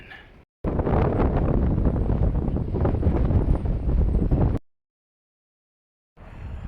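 Loud buffeting wind in Tehachapi, California, roars against the microphone for several seconds, cutting off abruptly into silence before gusting back in.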